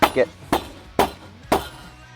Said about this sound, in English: I'll usually just hit it on with a rubber hammer